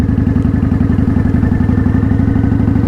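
A motorcycle engine held at light throttle with no clutch, a loud close steady chugging beat with even rapid pulses throughout.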